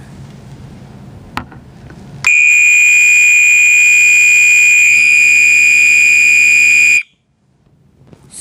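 A fire alarm horn for sale blares suddenly after a click, a loud continuous piercing electronic tone held steady for about five seconds before cutting off abruptly into quiet.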